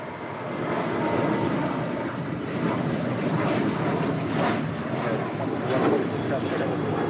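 A Hawaiian Airlines Airbus A330 taxiing at LAX gives off a steady, broad jet engine roar at moderate distance, continuous and even, with a voice talking over it.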